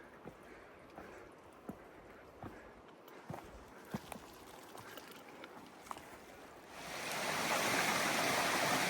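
Steady rushing of a mountain creek below a high trail near a wooden bridge in Balsam Grove, North Carolina, with hiking footsteps thudding on the path, then a louder surge of water noise near the end.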